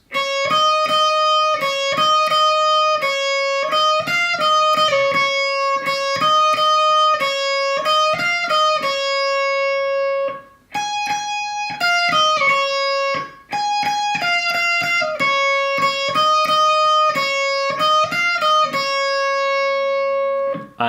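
A guitar solo from a song, played on a clean electric tone as a repeating melodic phrase of bright sustained notes with short pauses between passes, close and steady.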